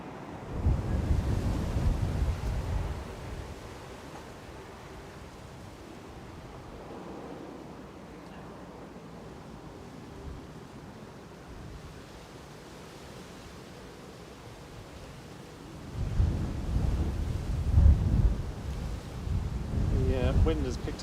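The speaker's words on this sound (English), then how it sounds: "The wind has picked up again." Gusty wind buffets an outdoor microphone at Manchester Airport, a heavy low rumble swelling loudly at the start and again near the end, easing to a softer steady roar in between, with no talk.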